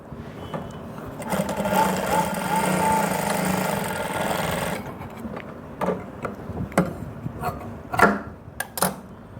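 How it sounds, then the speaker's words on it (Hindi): A sewing machine stitches a puffed sleeve, running in a steady close whir for about five seconds, then a few short stop-start bursts follow. "उस हिसाब से इसको आगे से सिलाई करो।"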